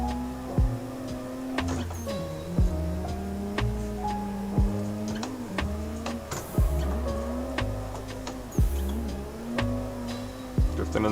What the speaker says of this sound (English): Drifting in the yellow FC